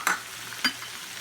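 Diced cilantro hitting a hot pan of empanada filling with tender cactus, two sharp bursts of sizzle and scraping followed by a quieter steady fry, no talking.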